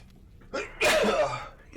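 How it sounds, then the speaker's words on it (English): One person sneezes once, a short indrawn breath followed by a sharp, close, fairly quiet burst. "Sneezing fit time."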